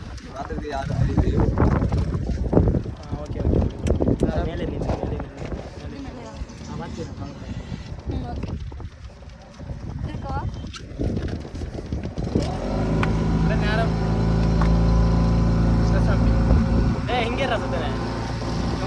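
Fiber fishing boat running on the sea, its engine droning steadily with wind buffeting the microphone; the drone grows louder and steadier in the second half, with people talking over it early on.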